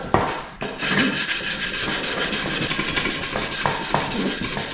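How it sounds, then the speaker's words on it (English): Steady rasping strokes of sanding on a car tail light trim piece, close and continuous, with repeated back-and-forth scrubbing and a few sharper scrapes, no voices. "So gotta use a block to sand it so I don't go into that divot."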